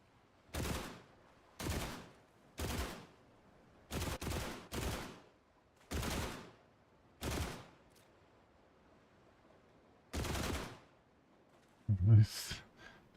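Rifle gunfire in The Last Caretaker, a sci-fi survival game: about nine loud, sharp single shots at irregular intervals over thirteen seconds, each followed by a short decay, ending with a brighter burst.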